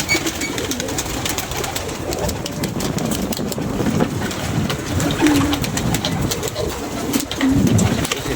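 Pigeons cooing close by, with soft throaty coos rising over a constant background of flapping, shuffling and a low idling engine hum.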